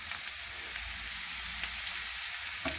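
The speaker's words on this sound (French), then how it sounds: "Je fais revenir mes oignons." Onions frying in a pan for a veal ragout, a steady close sizzle with faint crackles and occasional scraping, heard alone with no talk.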